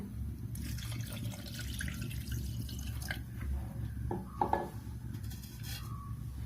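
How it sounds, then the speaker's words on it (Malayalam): Water runs and splashes into a metal pot on a lit stove for several seconds over a low background hum, with a few clinks near the end. "1 ഗ്ലാസ് വെള്ളം ഒഴിക്കുന്നത്."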